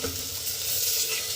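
Tomatoes and chillies go into frying onions in a new pressure cooker, giving a close, steady sizzle with light stirring and no voices.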